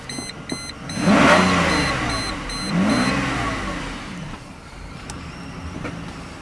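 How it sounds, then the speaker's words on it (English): A 1998 Mercedes-Benz S600L V12 starts up with a quick crank and catches, revving up twice before settling to a smooth idle, heard close with faint chime beeps early on. "Listen to that beautiful V12 start."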